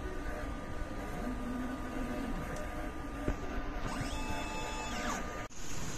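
Inkjet printer running a nozzle check print, a steady mechanical hum and whir with a few rising motor tones and clicks, ending in a sharp clunk, heard near with no clear talking.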